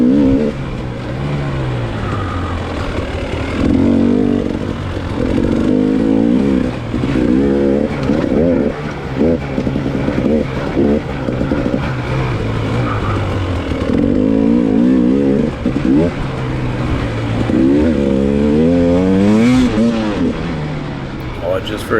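Two-stroke dirt bike at a hare scramble race revs and climbs onto the power band, the engine note rising and falling in repeated surges as it is ridden, loud and close throughout.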